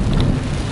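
Rain falls near a monumental cashew tree at a town entrance in Alagoas, a loud, continuous close hiss with low rumbling underneath and no speech.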